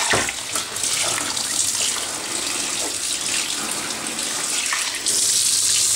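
Water gushes steadily from a hose over a baby in a bathtub, a loud, close, continuous splashing spray that briefly thins and then surges again near the end.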